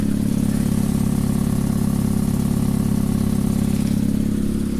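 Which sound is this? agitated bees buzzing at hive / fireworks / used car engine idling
used car engine idling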